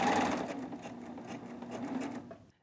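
A serger sewing machine stitching layers of fabric while gathering, a steady motorized whirring hum with rapid needle patter, close and continuous before stopping abruptly.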